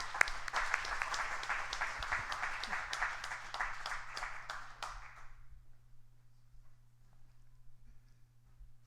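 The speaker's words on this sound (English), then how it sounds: "So applause, please, to get Andy up here" Congregation applauding at a church service as the board president comes up, moderate clapping with some distinct individual claps for about five seconds before dying away into quiet room noise and faint movement.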